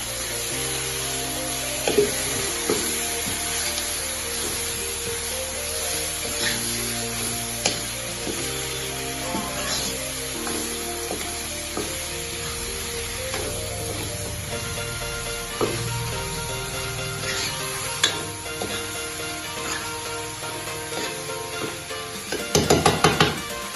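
Chicken meat sizzles steadily in a spiced pan over a wood fire, a continuous frying hiss with scattered clicks and a louder burst of crackling near the end, no voices.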